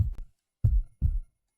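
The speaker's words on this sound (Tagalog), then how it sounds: "Bakit ang bilis ng tibok ng puso ko?" Fast heartbeat sound effect: a tight burst of thumps followed by two deep, booming beats in quick succession, close and loud against silence.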